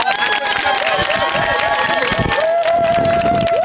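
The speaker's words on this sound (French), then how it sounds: "Des acclamations en guise de célébration de la victoire judiciaire gagnée par la famille Sankara" A crowd celebrating a court victory for the Sankara family in Burkina Faso: loud, dense cheering with wavering high-pitched calls and whoops rising and falling over each other, continuous and close throughout.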